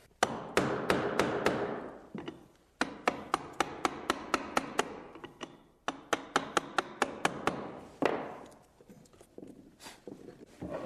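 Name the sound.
chiseling out a dado in a wooden stair tread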